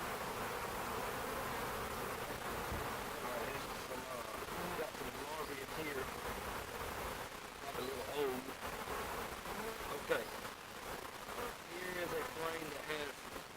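Honey bees buzz in a steady, dense drone while a hive is being split, close and continuous, with faint handling noises and a louder bump near the end.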